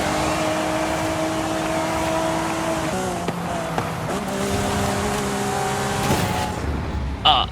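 Lamborghini Aventador SVJ in the Forza Horizon 5 racing game, its engine note droning steadily and shifting pitch through gear changes, with brief tire squeal as it corners, loud and close throughout.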